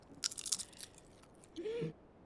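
Dry potato chips seasoned with paprika salt crunch in a few quick, crisp bites close to the mic, followed by a brief pause and a short voiced sound.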